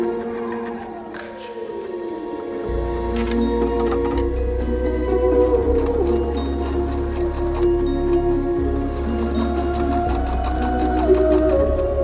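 A sewing machine runs steadily, stitching fabric borders onto a throw pillow, its motor hum and rapid ticking needle continuous and close, with brief mechanical clicks at the start.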